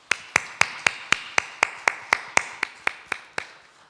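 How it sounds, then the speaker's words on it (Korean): A church congregation at a Sunday worship service claps in thanks in a steady, even rhythm, about fourteen sharp, loud unison claps with no talking. "감사의 박수를 한번"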